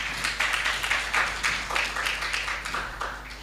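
An audience at the launch of Kenya's National Plastic Action Partnership breaks into applause, a steady patter of many hands clapping that fades slightly toward the end, with no voices over it.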